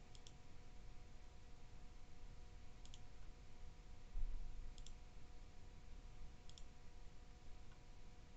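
Mouse clicks while inserting a citation in word-processing software, four faint paired clicks spaced a couple of seconds apart over a steady low hum, with no talking.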